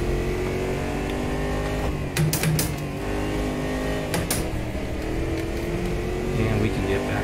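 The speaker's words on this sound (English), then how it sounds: "a little bit of wheel spin" A McLaren F1 in a racing video game whines with a steady engine drone, broken by brief harsh bursts as the wheels spin, while a person talks over the engine.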